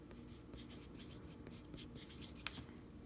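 Pen or pencil writing on a page, quiet close scratching strokes in short repeated bursts with one sharper tap, no talk over it.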